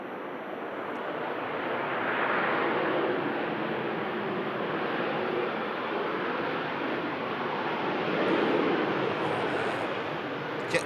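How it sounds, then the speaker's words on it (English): A Boeing 737 landing at Manchester Airport gives a broad, steady roar of engine and rushing air, moderately distant, swelling slightly and holding even throughout with no voices. "Beautiful touchdown from the 7-3 there."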